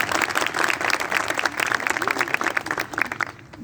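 An audience at a Herat women's football gathering claps in steady, dense applause at fairly loud, even level, with a voice or two faintly mixed in underneath.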